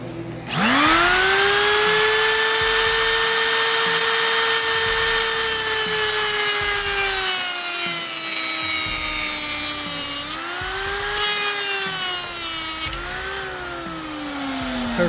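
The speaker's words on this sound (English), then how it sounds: "I cut the bolt as close as possible to the nut" A power tool cuts through a bolt close to its nut on a Porsche Cayenne passenger door during a window regulator replacement, a loud sustained whine whose pitch sags and recovers under load.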